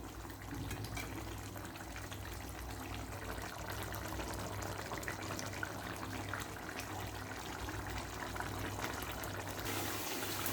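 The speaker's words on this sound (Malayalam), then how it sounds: "അപ്പോൾ നമ്മുടെ ആട്ടിറച്ചി ഒരുവിധം വെള്ളം വറ്റി വരുന്നുണ്ട്. അല്പം കൂടി വെള്ളമുണ്ട്, നമുക്കത് വറ്റിച്ചെടുക്കാം." Goat meat simmers as its cooking water boils down in the pot, giving a faint, steady bubbling hiss that holds evenly throughout with no talk.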